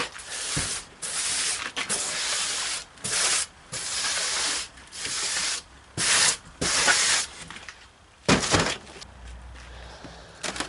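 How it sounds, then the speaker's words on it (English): Excess casting sand is scraped aside and gathered while preparing a flask for aluminum casting of a valve housing, making loud, close, gritty rasping strokes in repeated bursts with short pauses between. "move it to the side and collect all this excess sand"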